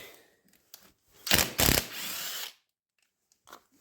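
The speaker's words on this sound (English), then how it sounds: "I'm gonna get my stupid ratchet." A ratchet or impact driver working 8mm bolts on a 2001 Honda Foreman Rubicon ATV during a wheel bearing replacement, with two short loud mechanical bursts, a sustained whirr and light clicks before and after.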